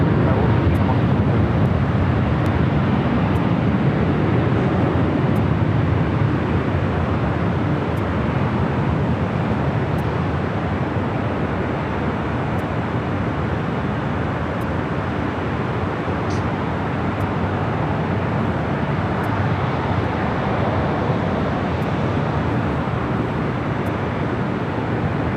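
A heavy jet roars through its takeoff run on runway 24 left at LAX, a loud broadband rumble holding steady throughout, with radio voices talking over it.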